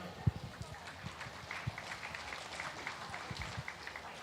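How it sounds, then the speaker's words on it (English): Audience clapping at a county fair junior beef steer show, a steady patter of applause with a few sharper claps standing out, moderately distant and fairly quiet. "Let's give these steer exhibitors a round of applause."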